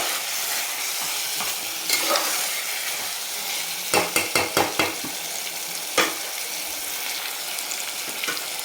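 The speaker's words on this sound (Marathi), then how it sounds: "जे वाटण आपण कांदा आलं लसूण याचं केलं होतं ते आणि तळलेला कांदा याच्यामध्ये एकदम छान परतून घ्यायचं" Whole spices, onion-ginger-garlic paste and fried onion being sautéed for mutton masala curry, a steady close sizzle with scraping stir strokes and a quick cluster of spoon clinks against the pan midway.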